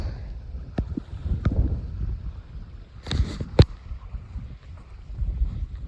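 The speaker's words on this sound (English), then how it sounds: "they are still gusty and it is very blustery out today" Gusty, blustery wind outdoors by a creek meadow, a low rumbling roar buffeting the microphone with a few sharp knocks, close and fairly loud, no talking.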